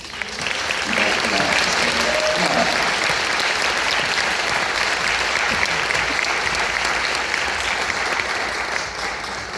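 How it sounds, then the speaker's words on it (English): Sustained applause from a large audience, dense and steady clapping that continues evenly throughout without pause. "Can you, with a warm welcome applause?"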